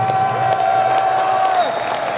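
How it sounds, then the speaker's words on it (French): Crowd applause at a metal festival in Trois-Rivières, a dense sustained clapping wash over a steady tone, with some scattered cheering throughout. "Une bonne main d'applaudissement pour eux autres."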